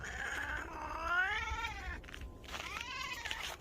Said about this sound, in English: This cat is letting her owner know, as you might have heard, she's not okay with this wintry walk in the snow.